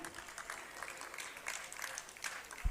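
Audience applause for quiz participants at a talent hunt program at Arts Council Karachi: a steady, dense patter of many hands clapping from a distant crowd, fairly faint, with a thump near the end.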